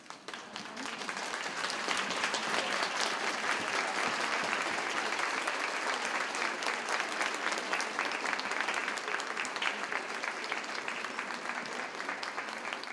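Graduates at the Urban College of Boston 2017 commencement give a long, steady round of applause for faculty, staff and families, dense clapping building quickly and holding for about twelve seconds.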